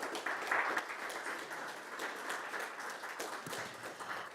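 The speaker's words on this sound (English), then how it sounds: "This is your applause." A conference audience applauds steadily, a dense wash of many hands clapping for several seconds.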